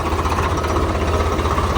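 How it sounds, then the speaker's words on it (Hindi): A Swaraj 855 tractor engine idles close by, a loud, steady low rumble with an even mechanical knock and vibration throughout. "ट्रैक्टर अपना खेतों में जा रहा"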